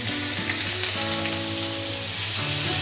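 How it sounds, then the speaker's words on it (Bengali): Onion and ginger paste fries in hot oil for a fish curry, a loud, steady, close sizzle with a constant crackling hiss and no talking. "আদা পেঁয়াজটা আমি ভালো করে ভেজে নেব।"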